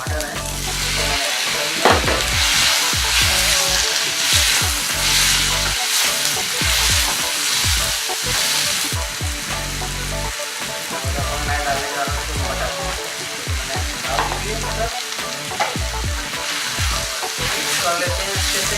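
Chopped peas sizzling and frying in a pan while being stirred for a royal upma, a steady close, loud sizzle broken by repeated scraping strokes of the spoon throughout.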